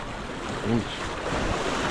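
Surf rolls onto a Captiva Island beach in a steady wash of breaking waves, with wind buffeting the microphone and a brief low sound in the middle.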